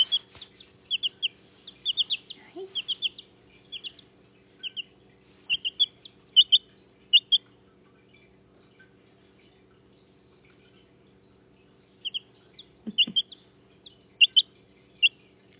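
Brahma chickens cluck in short bursts of clipped, chirpy calls, with several quick notes in a row, then a quiet pause, then a few more nearby calls over a faint steady background hum.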